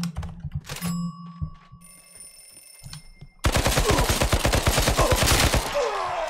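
Rapid automatic gunfire from a video game starts suddenly partway through as a loud, continuous burst of fast repeated shots, after quieter electronic ringing tones and a few isolated thuds.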